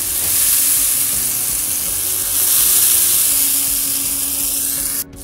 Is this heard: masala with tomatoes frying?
yes